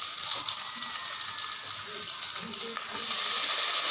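Onions and spices for country chicken curry fry steadily in hot oil, a dense continuous sizzle with faint stirring scrapes underneath, close and fairly loud throughout.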